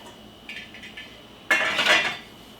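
A few light metallic clinks, then a louder scraping scoop as a utensil draws rich, creamy soup out of a cooking pot, close and brief.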